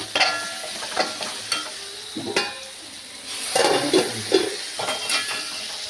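Tapioca mixed with meat curry gravy and curry leaves being stirred in a pan, a spoon scraping and clattering in uneven strokes over a soft, steady sizzle, close and fairly loud with no talk.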